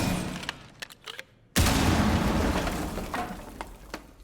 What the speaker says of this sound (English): let's test the explosion on the wall